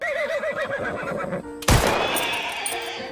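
A horse whinnies in a film scene from Loving Pablo, a wavering neigh up front, then a sudden sharp impact as the horse is struck and a fading rumble afterward.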